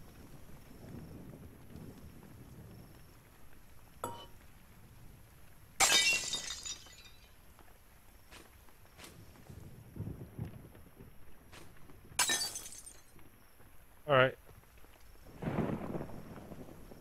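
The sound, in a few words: glass smashed with crowbar in video game Klepto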